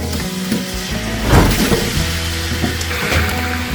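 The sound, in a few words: 5 kg chicken added to hot oil, frying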